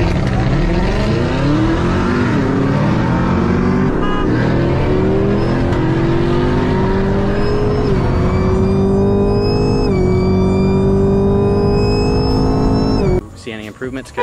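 A supercharged 2018 Chevrolet Camaro ZL1 engine revs hard and close, pitch climbing in long sweeping pulls with supercharger whine on top, then cutting off abruptly near the end as voices speak over it.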